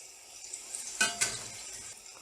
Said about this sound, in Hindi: इनको ब्राउन होने तक आपने तलना है।